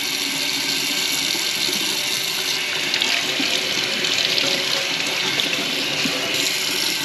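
Tap water runs steadily into a sink as small plastic drain filters from a Fiat 124 Spider or Mazda MX-5 ND are rinsed under it, a constant close splashing hiss with faint handling rattles.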